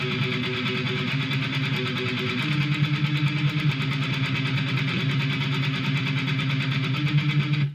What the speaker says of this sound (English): Slowly, it sounds like this.